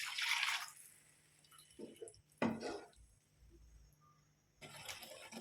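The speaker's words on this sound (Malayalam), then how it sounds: "പുളിവെള്ളം ഉണ്ടല്ലോ അതൊഴിച്ചു കൊടുക്കും" Tamarind water is poured into a simmering brinjal curry, giving faint, intermittent splashes and liquid pours in short bursts against a quiet kitchen background.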